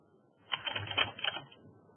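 Short run of keystrokes as numbers are entered on a keyboard, a quick cluster of clicky taps lasting about a second, close and fairly quiet with no talking.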